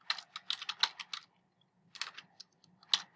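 Quiet computer keyboard typing in two bursts of quick, irregular keystrokes separated by a short pause, with no talking.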